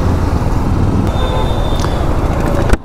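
Congested road traffic during a jam in Bhubaneswar, a steady loud rumble of idling and creeping engines close by with a few faint horn-like tones, ending in a sudden cutoff.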